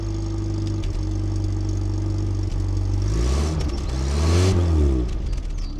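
A parked car's engine idles steadily while warming up, then revs louder for a stretch before settling back, heard close with no voices.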